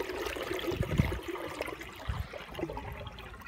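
A clogged Universal Rundle Athens toilet flushes with its lever held down, giving a steady, moderately quiet rush and gurgle of water that runs unbroken for a few seconds with no talking.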